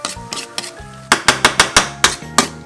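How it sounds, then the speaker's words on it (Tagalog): Squid adobo ingredients stirred in a hot pan, a spatula knocking in a steady series of sharp scrapes and clacks over a faint sizzle, close and fairly loud with no talk. "So haluin lang natin hanggang kumapit ang mga ingredients"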